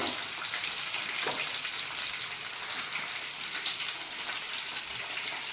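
Raw jackfruit pieces frying in hot oil, a steady, dense sizzle and bubbling that holds loud and close throughout with no talking.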